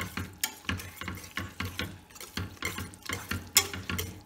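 A whisk beats pectin into mango strawberry jam in a pot with quick, rhythmic scraping and clinking strokes, close and steady throughout.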